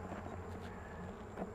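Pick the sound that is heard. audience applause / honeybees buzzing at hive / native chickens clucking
honeybees buzzing at hive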